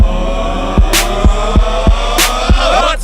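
Cricket commentary jingle announcing fast bowler Kagiso Rabada at a match in Karachi: a short musical sting with a steady low drone, evenly spaced punchy beats and two bright crash-like hits, loud and without talk.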